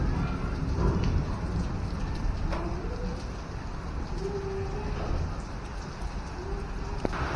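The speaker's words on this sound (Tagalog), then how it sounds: "Ang lakas ng ulan guys." Heavy rain with gusting wind pours steadily outdoors on the evening of Eid, a dense continuous wash close to the microphone, with faint bird coos and distant voices in the background.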